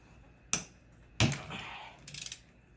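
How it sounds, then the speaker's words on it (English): A large ratchet works on the flywheel nut of a Honda XR100 engine on a bench, giving two sharp metallic knocks and then a quick burst of clicking, close and without talk. "Bigger ratchets definitely do help for that."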